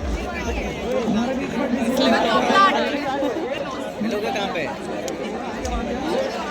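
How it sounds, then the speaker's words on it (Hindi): Dense crowd chatter at the Mahakauthik fair in Uttarakhand, a steady hubbub of many overlapping voices close around, with nearby talk mixed in. "मैं तो पहुंच भी नहीं पा रही, इतनी भीड़ है।"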